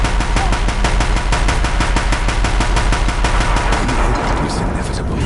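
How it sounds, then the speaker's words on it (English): Deathbringer machines in Horizon firing heavy guns in a rapid, relentless burst of evenly spaced shots, loud and close, easing off slightly near the end. "If the Deathbringers keep firing,"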